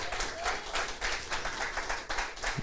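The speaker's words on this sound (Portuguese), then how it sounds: "Romanos 10, você quer aplaudir mais uma vez?" Audience applause in a church, dense, steady clapping from a crowd lasting a few seconds, fairly close and even.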